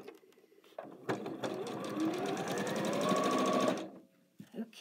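Sewing machine stitching quilt fabric, running in a steady fast whirring hum for a few seconds before stopping, near and clear, with quiet handling noise around it.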